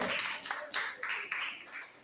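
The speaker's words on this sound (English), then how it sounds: "Clap her. Put your hands together for her." A classroom of students applauds a classmate, several short bursts of clapping with uneven rhythm over about two seconds, moderately close and fading toward the end.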